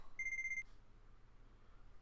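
Phone alarm in a visual novel game, a short electronic beeping tone pulsing rapidly for about half a second, clear and isolated against near silence.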